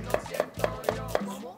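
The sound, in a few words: onion being julienned with a knife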